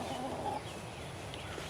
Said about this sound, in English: The chickens are in. They love digging in that leaves and getting bugs and things